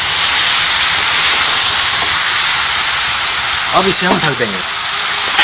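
Mutton curry fries in plenty of oil in an open pressure cooker, giving a loud, continuous steamy hiss and sizzle, close up, with a short stretch of talk over it near the end.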